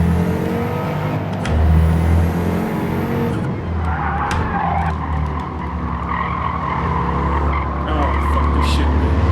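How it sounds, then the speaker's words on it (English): Race car in Gran Turismo 7 brakes hard into a corner with tires squealing and skidding over a loud, sustained engine drone, the screech rising in the middle as the engine keeps roaring near and steady. "And again, I'm braking too early."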